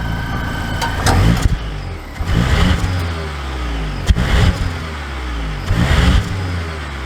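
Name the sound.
Volvo XC60 B6 engine as car sets off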